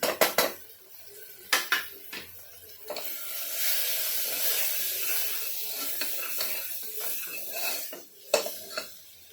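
Turmeric, garam masala and coriander-cumin powder added to a pot of dal khichdi base with onion and tomato: sharp metal spoon clinks against the pot, then a steady stir-and-sizzle wash, and more clanks at the end, no talk.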